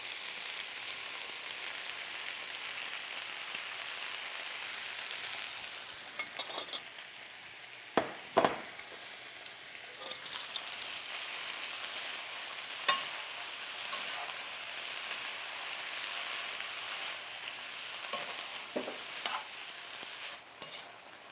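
Bok choy stalks cooking down in a crowded frying pan, a steady soft sizzle with scattered utensil clinks and scrapes against the pan, no voices.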